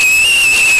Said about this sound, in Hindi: ज़रा सीटी बजा के दिखाएं